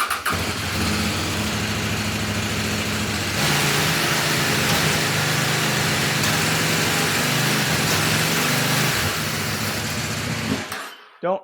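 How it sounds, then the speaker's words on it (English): A CFMOTO 800NK motorcycle engine runs steadily with its rear wheel raised off the ground, shifting up and down through the gears with no load, loud and close for about ten seconds before it cuts off abruptly. "it's just seamlessly going from one gear to the next, up and down."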